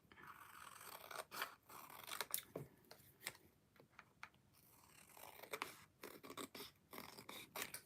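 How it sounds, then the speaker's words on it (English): Scissors trim excess paper during a scrapbook crafting session, with a string of quiet close snips and crisp paper rustles in irregular bursts, faint against a hushed room. "And then I can just trim off the excess."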